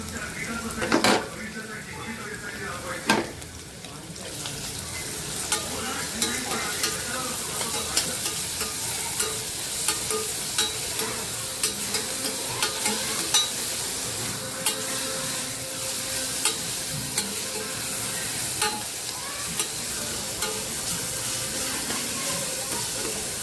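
Asafoetida, crushed green chilli and garlic sizzle steadily in a hot pan while being stirred, with frequent clinks of a spoon against the pan and a voice speaking briefly at the start.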